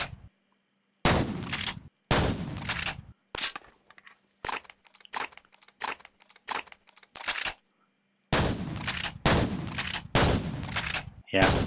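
A gun called the M10 fires in a Minecraft mod, giving loud sharp bursts of rapid shots separated by short silences, with a group of quicker single shots in the middle.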